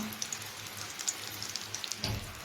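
Steady rain falls on surfaces during a heavy village downpour, with the drains overflowing. It makes a soft, even patter with a faint low rumble underneath and no voices.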